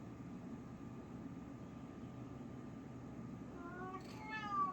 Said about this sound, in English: You are an indoor kitty.